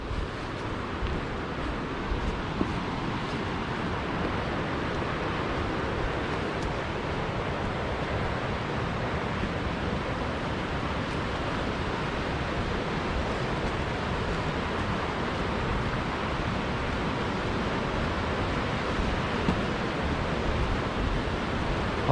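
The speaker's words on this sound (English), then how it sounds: "Certainly can hear the waterfall" Ringtail Falls, a sizeable waterfall near Waratah in Tasmania, gives a steady broadband roar of falling water that carries on unbroken and fairly even from start to finish, with no voices.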